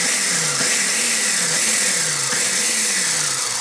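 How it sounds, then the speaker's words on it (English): A Ninja Professional Blender blending a chocolate milkshake gives a loud, steady motor whir close to the microphone. Its pitch dips and recovers in a few repeated cycles as the contents churn. "We have the Ninja Professional Blender."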